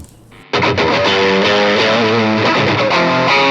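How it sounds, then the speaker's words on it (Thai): A loud electric guitar through a single-coil Umeda Modern Alnico M-01 pickup with heavy high-gain distortion kicks in after a brief quiet moment, playing sustained crunchy chords and notes. "เล่นกับเสียงแตกแบบไฮเกน"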